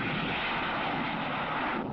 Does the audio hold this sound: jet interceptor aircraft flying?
yes